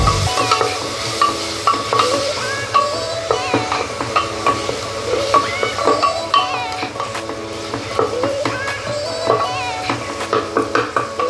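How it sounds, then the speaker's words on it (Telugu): Mushrooms fry with salt in a pan until golden, producing a continuous close sizzle broken by frequent scraping stirs of a spoon, with no talking. "ఇది బాగా గోల్డెన్ కలర్ వచ్చే వరకు వేగించుకోవాలండి."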